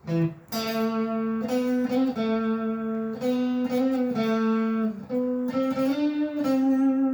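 Guitar notes ring out with quick hammer-ons and pull-offs in a repeating phrase, played alone and clear, no voice.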